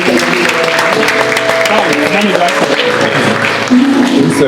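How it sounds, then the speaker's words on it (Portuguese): A church congregation applauds while music plays, steady clapping under sustained instrumental tones and voices, loud and close. "Faz favor, vamos aplaudir ao Senhor."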